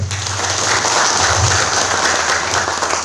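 Applause from villagers at a Cipadang village gathering welcoming a guest, a close, steady wash of clapping from a crowd with a low hum underneath.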